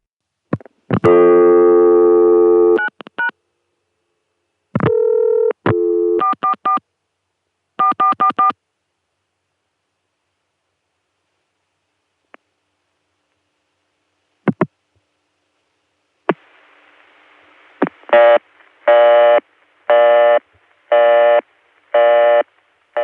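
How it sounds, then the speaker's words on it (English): A telephone call dialed to 444-4444 through a 1980s exchange tandem: clean bursts of dialing tones in short groups separated by silences and faint clicks, then a rapid run of repeated pulsing busy test tones to the end. "Now I'm going to try dialing 444 4444."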